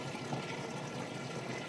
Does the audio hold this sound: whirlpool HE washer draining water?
yes